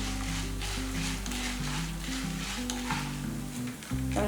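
Chana dal frying in hot oil while making a drumstick leaf chutney, giving a steady, close sizzle that keeps going without a break. A low tonal hum runs underneath, and nobody speaks.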